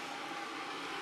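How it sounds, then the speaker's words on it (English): An electric kettle heating water gives off a steady, broadband hissing rumble at moderate volume, continuous and unbroken, with no voices. "If you can hear that noise, that is the kettle."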